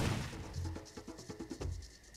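Enemy gunfire in the Far Cry 2 video game, a quick cluster of muffled shots and thuds of moderate loudness over a rumbling low background, with no talk.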